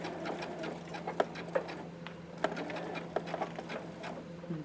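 A sewing machine runs close and steady while back stitching a seam, its rapid needle rhythm broken by a few small clicks.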